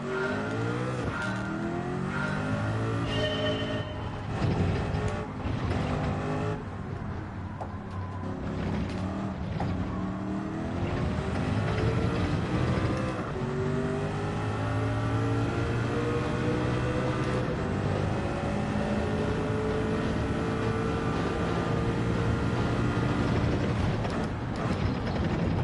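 Race car engine in Gran Turismo 7, loud and continuous, with revs rising and falling through gear changes and a steady mechanical drone, plus occasional brief tire squeal as the car is driven hard around a track.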